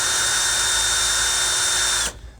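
A power drill spins at a high, steady whine while boring through a stainless steel exhaust shield into the rocker of a 1983 Chevrolet El Camino, loud and close, then stops abruptly after about two seconds.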